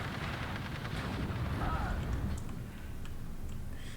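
A unit firing in a World War II real-time strategy game: a dense, continuous rumble of artillery and gunfire rolls steadily through the moment, thick and low, with faint speech mixed under it.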